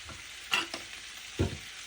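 Baby potatoes with turmeric and chilli powder being stirred in a frying pan, two quick scraping stirs over a faint sizzle, close and quiet.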